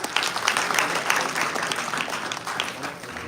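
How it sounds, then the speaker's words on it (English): A crowd applauds, a short burst of scattered clapping at moderate volume that tapers slightly. "Can we have a huge round of applause?"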